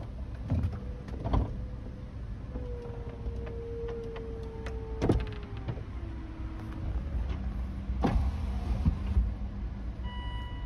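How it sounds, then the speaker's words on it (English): The power hardtop of a 2007 Volvo C70 convertible retracts with a steady electric motor whine that shifts pitch partway through, punctuated by several mechanical clunks and thumps of the panels folding, close and clear with no talking. "Top down the rest of the way."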